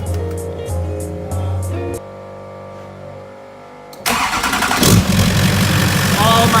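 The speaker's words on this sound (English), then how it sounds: "we do have to hear an open turbo Duramax, basically a full straight pipe." An LLY Duramax diesel truck with an open turbo and straight pipe runs loud and close, shifting from a steady idle to a harsher, louder rumble as the engine note rises.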